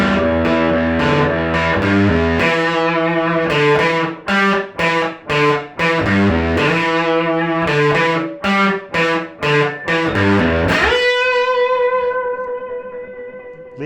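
A distorted electric guitar slowly plays intro riffs in standard tuning, loud, with choppy repeated chord stabs and then a final slide note left ringing with vibrato.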